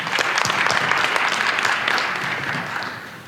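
A seated audience at a Korean presentation on in-place apartment reconstruction breaks into loud, sustained applause to welcome Shinhan PNC CEO Lee Hyo-jin to the stage, a dense steady roar of claps that fades slightly at the end.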